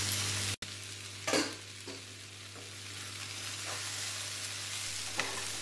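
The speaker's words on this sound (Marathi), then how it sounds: "आता छान व्यवस्थित परतून घेऊया।" Sweet potato slices with sugar sizzle softly in a pan, a steady quiet fry broken by a couple of brief scraping stirs near the start and end.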